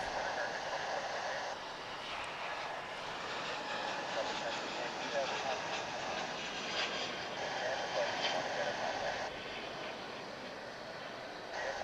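A Delta airliner takes off from DFW International Airport, a broad, steady jet roar heard from a distance that holds at an even level for the whole stretch, with faint talk beneath.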